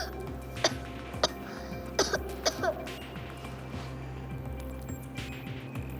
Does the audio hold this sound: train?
no